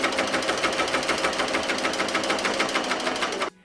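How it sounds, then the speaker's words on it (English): An embroidery machine runs a placement stitch outlining letters on a T-shirt, a loud, close, rhythmic rattling hum that cuts off abruptly near the end. "So I'm laying down my placement stitch of all the letters first so I don't have to keep stopping the machine"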